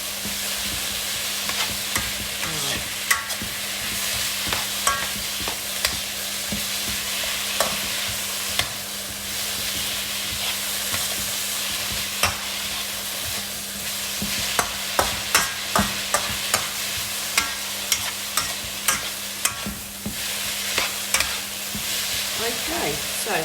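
A vegetable stir-fry sizzles loudly in a pan, a continuous close hiss broken by frequent sharp clacks and scrapes of a utensil tossing the food, with faint talk in places.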